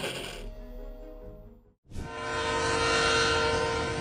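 A loud train horn blares at a railroad crossing with rumbling rail noise, cuts out for a moment, then returns even stronger and sustained.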